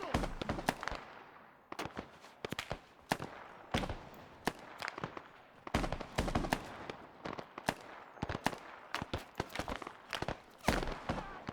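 Short bursts of submachine gun fire in the Vietnam War shooter SOG DLC, sharp cracks in clusters and single shots scattered across the stretch, with quieter rustling between bursts.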